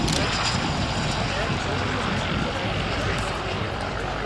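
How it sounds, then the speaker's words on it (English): A Jet Provost T5 jet trainer performing at an RAF air show produces a continuous roaring engine drone that stays steady and fairly loud, with an announcer's voice over the public address. "elegantly flown for us this Jet Provost T5 from Jet."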